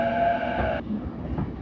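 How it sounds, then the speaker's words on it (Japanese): A JR rapid train bound for Tokyo on the Chuo line, heard from on board as a steady rumble with a tonal whine that cuts off partway, leaving low running noise. "快速東京行きに乗車。"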